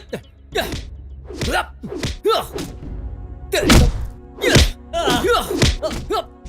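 Punches and blows land in a Hindi-dubbed South Indian film fight scene: a string of heavy thuds and whacks, irregular and loud, mixed with grunts and gasps.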